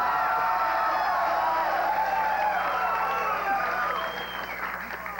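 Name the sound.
studio audience cheering and applauding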